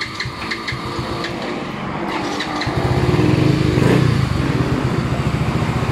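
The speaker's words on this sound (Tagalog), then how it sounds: "Tahimik ng makina natin" A Yamaha Mio i 125 scooter engine bored to 160cc, freshly rebuilt with new cams, idles steadily with a rough, putting rhythm, growing slightly louder and fuller halfway through.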